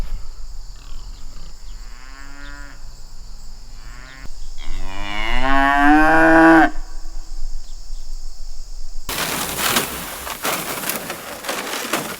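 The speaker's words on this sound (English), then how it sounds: "Come here, cows." Cattle on a pasture farm where pigs are also kept give two or three long, drawn-out moos, the loudest near the middle, followed by a burst of broadband rustling and scuffling noise.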